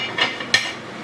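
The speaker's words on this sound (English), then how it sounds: "Put the lid on," A couple of soft metallic clinks as a lid settles onto a pot of cooking ratatouille, brief and close, over a faint background hiss.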